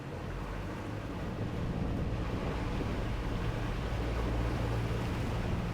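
Centouno Navi Vespro performance motor boat accelerating at sea, a steady low engine drone with broadband wind and water rush that rises slightly and then holds loud and continuous throughout.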